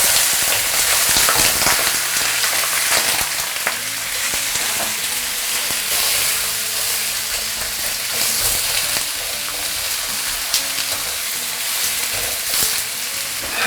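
Fish bones fry in a wok in a mix of oil and lard over low heat, giving a continuous close hiss and crackle with occasional stirring scrapes throughout.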